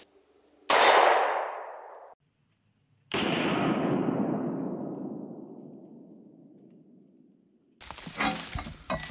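A subsonic 300 Blackout round strikes a 1/8 inch 304 stainless steel plate, giving a sharp metallic clang that rings out, then a second louder ringing hit decays slowly, followed by a burst of noise at the end.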